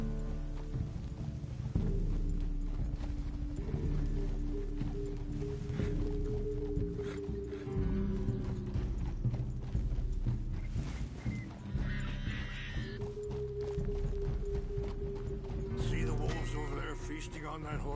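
Horse hooves clip-clop steadily during a ride in a video game, a rhythmic patter running under continuous spoken dialogue and background music.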